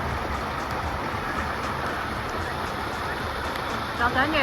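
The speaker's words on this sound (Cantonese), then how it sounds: "落緊雨啊！嗱，你睇下幾大雨。" Heavy rain falls over a rocky mountain stream. A dense, even hiss of downpour holds steady at the same level throughout and blankets the scene.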